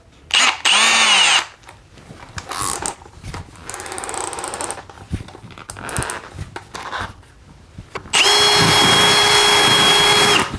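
A Milwaukee 1/2 inch hammer drill/driver, model 2804-20, turning a 3/4 inch impact socket on an adapter to drive a 1/2 by 4 inch lag screw: two loud, sustained whining motor bursts with quieter clattering and handling noise between them.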